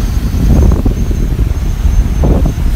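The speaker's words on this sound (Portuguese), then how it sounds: "Olha como o vento chacoalha ele, mas ele fica travadinho." Gusty wind buffeting the microphone outdoors while an MJX Bugs 3 Pro drone hovers nearby, loud low rumbling gusts throughout with no clear rotor whine.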